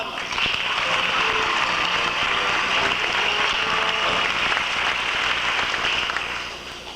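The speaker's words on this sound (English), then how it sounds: "Yes, a warm round of applause for Mr. Nick Tricker and Son." A theatre audience at a closing-night stage musical claps in a dense, even round of applause that holds steady for several seconds before fading near the end, with no one talking over it.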